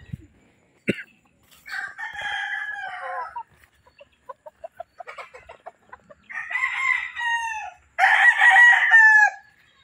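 A recovered, once-sick rooster crows several times, loud and close, with clucking between the calls and a sharp knock near the start.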